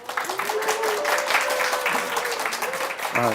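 Audience applause fills a lecture hall during a Korean-language Amway business talk, a dense, steady burst of clapping lasting a few seconds, with a voice briefly audible over it.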